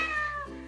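A cat gives one short, close, clear meow with a slight downward pitch glide, standing alone without talk.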